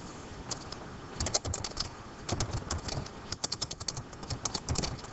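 Bursts of close keyboard typing on a computer, irregular clusters of quick key taps with short pauses between them, under a soft background hiss.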